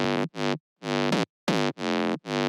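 Synthesized bass playing short, heavily distorted notes in a choppy rhythm, with brief silent gaps between bursts, loud and buzzy.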